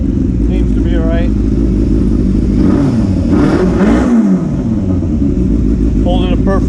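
A rebuilt Yamaha YZF600R Thundercat sport motorcycle engine idles steadily nearby, a loud even throb with a slight rise in revs midway, while someone talks over it.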